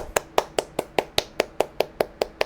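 One person claps hands in a steady, even rhythm, about a dozen sharp, close claps over two and a half seconds with no other sound.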